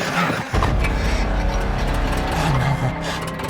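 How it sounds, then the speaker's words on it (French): A small car engine in a video game turns over and settles into a loud, steady, rough running drone that revs and surges slightly, filling the whole stretch without any talk. "La voiture a démarré. Elle a démarré, mais elle ne tourne pas très bien."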